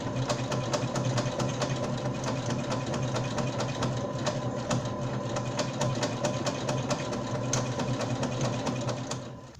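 A sewing machine runs fast and continuously, its needle ticking in an even rhythm as it stitches a decorative seam in gold thread around a Christmas-tree napkin, close and alone with no voices.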